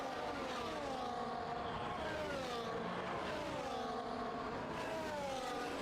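Race cars in Speed Force Racing, on the Hungary circuit, drone past with engine pitch rising and falling in long sweeps. The sound stays steady and fairly faint.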